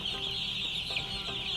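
Meat chickens in a brooder clucking and chirping steadily together as a dense, continuous flock chorus, fairly close and without talk.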